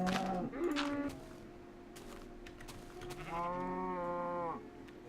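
A person imitates a sheep during a Minecraft farm-building session, giving a short bleat and then a longer wavering, vibrato baa, both close and moderately loud over quiet game background.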